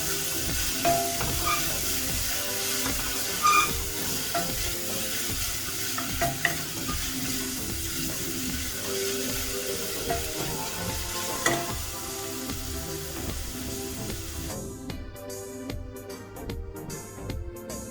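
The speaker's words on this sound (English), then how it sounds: "We'll stir our onions again." Onions frying in a pan are stirred, a continuous sizzle with scraping spoon strokes and clinks repeating through the stretch, close and steady, ending in a few sharper scrapes, no voices.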